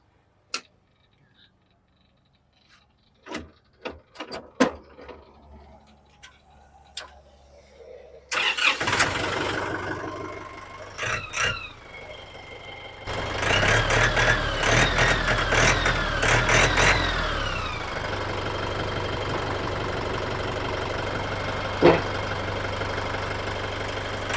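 A Kubota MU4902 farm tractor from 2018 is cranked with a few ticks and clicks before its diesel engine catches and settles into a steady, close, even idle that runs to the end without speech.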